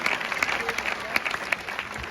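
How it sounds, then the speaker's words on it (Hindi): Applause from a school audience greeting students from South India, a dense patter of many hands clapping at moderate distance, steady throughout with a few sharper claps standing out. "एक बार इनके लिए जोरदार ताली बजाओ भाई।"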